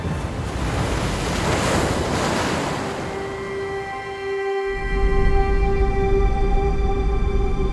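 Ocean surf rolls steadily onto the beach at Cox's Bazar, a continuous loud wash of breaking waves with wind buffeting the microphone and no voices.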